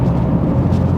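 A BMW M car's engine intake roars loud and close in Sport Plus mode, a steady deep induction drone across the brief moment with no voices.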